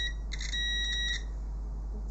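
A multimeter in continuity or diode test mode, probing the shorted power supply of a Samsung UE50MU6 TV, gives a steady high electronic beep of about one second, close and clear over a low hum.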